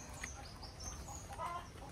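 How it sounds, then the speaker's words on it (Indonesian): Faint clucking of chickens in an outdoor village setting beside a graveyard during Eid, a few soft intermittent calls over low background noise. "Itu ada ayam. Ada ayam nih."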